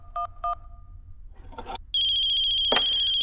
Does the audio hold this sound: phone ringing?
yes